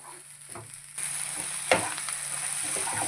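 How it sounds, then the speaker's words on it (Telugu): Masala frying in oil for a mushroom curry, a steady broadband sizzle that swells after the first second, with scattered stirring scrapes and one sharp spoon knock near the pan. "చక్కగా దోరగా వేయించుకోవాలన్నమాట ఈ మసాలా."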